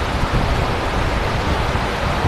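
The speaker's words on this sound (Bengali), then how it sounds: "কি পরিমাণে বাতাস, সাথে মিস্ট বের হচ্ছে" A mist fan blows a steady, close broadband rush of air and fine spray, unbroken and fairly loud with no talk over it.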